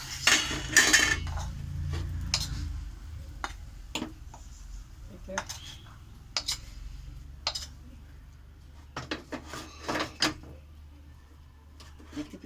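Fried greens scraped from a pan onto a plate with a spatula, giving a run of close metallic scrapes, knocks and clinks against a quiet kitchen background.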